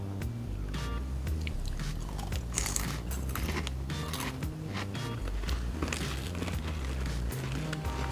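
Close, crisp crunching and chewing of Doritos and Cheetos chips, with repeated sharp bites and munching in an irregular rhythm during a taste test.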